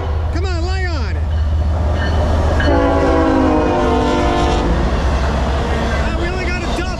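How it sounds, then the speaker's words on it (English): A loud freight train horn from two ES44DC locomotives blares in long sustained blasts over the heavy rumble of a westbound Norfolk Southern freight passing through South Plainfield, New Jersey, with a voice briefly heard near the start. "Come on, give me a horn show."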